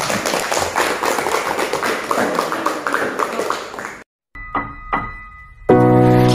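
A classroom group claps hands together in a dense, steady patter for about four seconds, then it cuts to near silence with a few faint taps before bright music starts.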